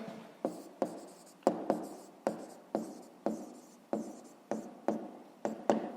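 Pen strokes writing out a fifth-grade math solution on paper, a steady run of about a dozen short scratchy bursts, close and fairly quiet, with no talking.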